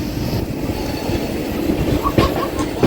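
The Vikrama Simhapuri Amaravathi Superfast Express pulls into Vijayawada Junction with a steady rumble and rhythmic clickety-clack of wheels, plus a few brief metallic squeals near the end, loud and close.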